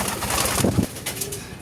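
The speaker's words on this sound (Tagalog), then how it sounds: "Yan mga kalapatids." Racing pigeons coo in soft, throaty bursts close by, with a short run of cooing over a steady background hum.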